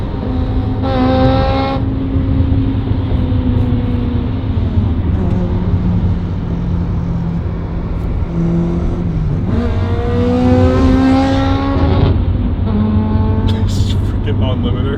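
A Honda Integra with a VTEC engine revs hard in loud, close bursts that climb sharply in pitch, several pulls standing out over a constant engine drone.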